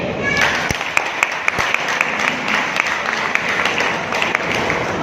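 An audience at an MLM pin celebration event applauds steadily for several seconds, with a few sharp individual claps standing out over the crowd.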